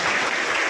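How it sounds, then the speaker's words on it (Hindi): Audience applause at a police talk in Durg, a dense, steady clapping from a crowd that fills the short moment loudly and evenly without any voices. "और दूसरा अच्छा लगता था तो भी ताली बजाते थे।"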